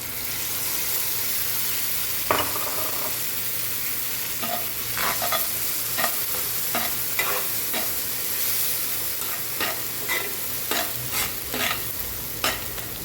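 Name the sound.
ground masala paste frying and stirred in pan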